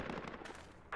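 Short quick bursts of gunfire from the military shooter Project Reality, crackling shots at moderate distance ending in a louder, sharper report.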